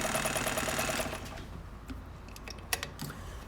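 A 1963 Kenmore 158.904 full-featured sewing machine runs with a fast, steady mechanical whir that slows and fades, followed by a few sharp clicks and taps nearby.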